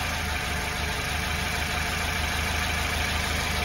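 A Lada car engine running on A-100 petrol idles steadily in a garage with a low, constant rumble and faint vibration, sounding close and enclosed, with no voices.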